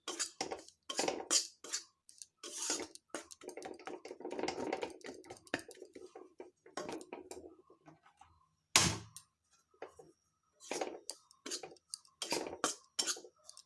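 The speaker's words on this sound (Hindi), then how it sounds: "बस इसी तरह इसको भून लेना है।" Semolina and gram flour are stirred and roasted in a pan with a spoon, making close, intermittent scraping and clinking strokes in uneven bursts, separated by quiet gaps.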